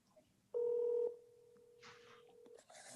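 Telephone keypad tones during a magistrate's virtual court meeting: one loud, half-second dialing tone, then a long steady tone with faint background noise and brief rustles, no talking.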